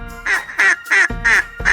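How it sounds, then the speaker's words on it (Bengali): A duck quacks four times in a steady rhythm, loud and close, with a fifth quack starting at the end and nothing else heard. "এটা হলো ডাক। হাঁস এরকম করে ডাকে।"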